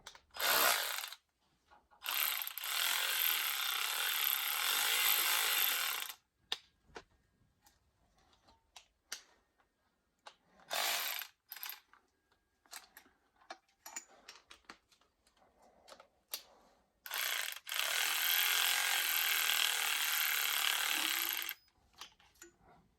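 A Snap-on electric ratchet snugs bolts during a Porsche Boxster engine swap, with three sustained whirring bursts separated by quiet stretches of light ratcheting clicks and tool handling.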